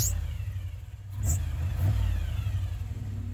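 The engine of a custom-built competition rock buggy revs up and holds a rough, throaty roar at close range, rising in the middle and staying loud to the end.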